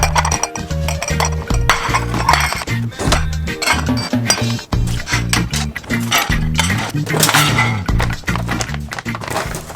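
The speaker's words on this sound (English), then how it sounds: "I'm gonna start off by bringing all these dirty dishes down to" Dirty dishes clink and clatter continuously as they are carried to a kitchen sink, with rattling ceramic and cutlery knocks over a steady rhythmic musical backing.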